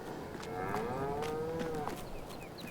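Cattle moo in a farming video game, one long drawn-out low moo near and clear over a faint steady background hum, with no talking.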